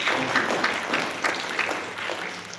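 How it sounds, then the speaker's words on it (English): Audience at a lecture event in the Dallas area giving a round of applause, moderately quiet, continuous clapping from a crowd that gradually tapers off. "Let's give them one more round of applause."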